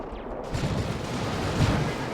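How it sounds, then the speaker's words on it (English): Assault cannon barrages in the Dawn of War 2 real-time strategy game, a dense rumbling stream of rapid heavy gunfire and booms filling the battle soundscape steadily, with no talk over it. "I hear assault cannon barrages."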